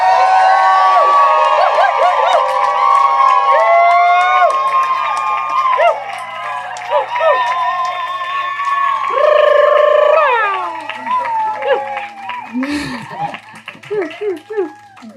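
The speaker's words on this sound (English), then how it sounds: "I want us to all give her a round of applause and or a shriek or a woo" Audience at a talk responding with whoops, shrieks and cheers, high excited voices calling out over scattered clapping, loud and lively, rising in bursts and thinning toward the end.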